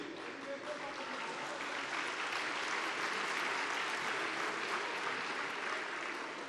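Sustained applause fills a political party's parliamentary group meeting in the Turkish Grand National Assembly, a dense, steady clatter of many hands held at an even level without breaks for the whole stretch.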